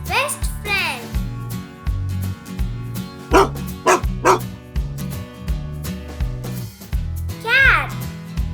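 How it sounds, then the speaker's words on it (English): A dog barks in short sharp bursts over a bouncy children's music track, with barks repeated several times across the stretch and a child-like voice speaking between them. "Dog. Dog is man's best friend."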